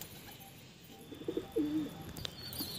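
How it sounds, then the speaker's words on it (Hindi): A male Shikra pigeon coos in a short, soft burst of low throaty notes near the end of a quiet stretch, with faint background hiss. "ये शिकरा कबूतर का नर है"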